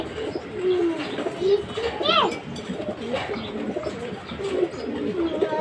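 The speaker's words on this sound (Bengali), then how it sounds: "আমাদের এই পাখিটা, আমাদের এই পিজনে" Soft, repeated cooing of a pigeon nesting with newly hatched chicks on a balcony nearby, several low warbling calls spread through the clip, with a person talking over them.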